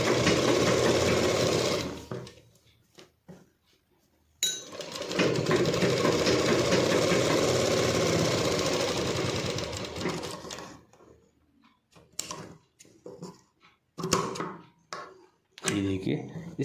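A sewing machine stitches a Rajputi suit in close, steady whirring runs, pausing between bursts, with someone speaking over parts and quieter handling sounds in the gaps.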